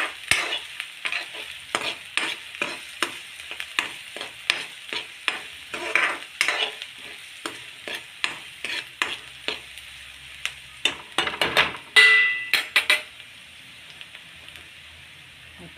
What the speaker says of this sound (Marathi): माझं तापलेलं होतं त्याच्यामुळे पटकन लसूण हे झालं. कांदा पण भाजला आपला.